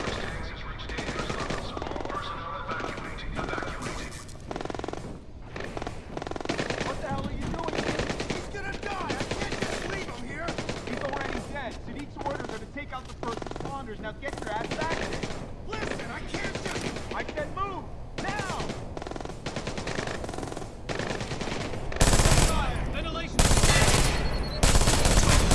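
Unsilenced gunfire in Splinter Cell Blacklist, rapid bursts of automatic shots rattling on and off throughout, growing louder and harsher near the end.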